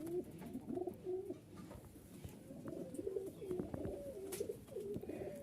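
Rajshahi giribaz pigeons coo softly and repeatedly, low throaty rolling calls overlapping close by at a quiet level.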